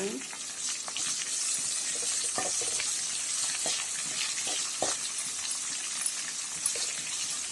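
Chopped onions, two green chilies and curry leaves sizzle and fry in a pan with a steady crackling hiss, punctuated by occasional scrapes and stirs, at moderate volume, all while cooking a morning breakfast dish.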